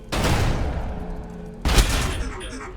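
Gunfire from a Tau versus Tau multiplayer battle in Warhammer 40000 Battlesector: a sustained, loud volley of shots that fades, then a second heavy burst with a deep thump, all without speech.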